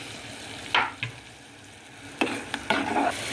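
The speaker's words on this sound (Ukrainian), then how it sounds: "тепер всипаю цибулю сюди, сиру і моркву" Chopped raw onion and carrot tumble into a pot in a few quick pours, rattling and splashing briefly against a quiet background.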